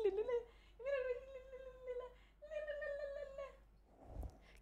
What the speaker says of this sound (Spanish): ¡Qué bella la gatita de la casa!